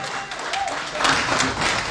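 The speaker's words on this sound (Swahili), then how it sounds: "makofi" A crowd applauds at a funeral gathering, with dense continuous clapping throughout the short stretch and a voice faintly audible beneath it.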